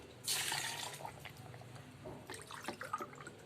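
Roughly one to one and a half glasses of water poured into a blender jar holding falsa berries and sugar, a bright splashing burst at the start that trails off into scattered drips and trickles.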